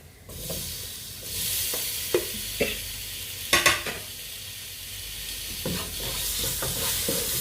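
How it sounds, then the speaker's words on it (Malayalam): Chopped tomato is stirred into a frying chicken stew masala, a continuous sizzle broken by several spoon scrapes and clanks against the pan, loudest in a quick cluster midway. "നന്നായിട്ട് ഇളക്കുക"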